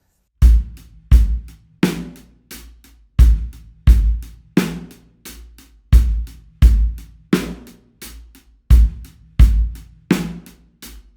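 A drum kit plays a steady half-time groove, with punchy bass drum hits and a snare on the backbeat repeating evenly, loud and close, with no voices.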